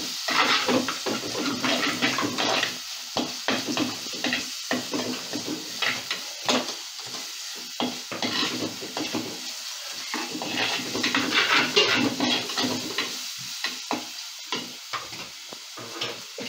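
Onions sautéing in a clay pot for a fish curry, a steady crackling sizzle with repeated stirring scrapes and clinks of a utensil against the pot, close and continuous throughout.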